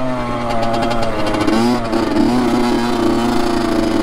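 Dirt bike engine revving steadily while riding through packed, wet snow, loud and close throughout with a slight rise in pitch, with no talking.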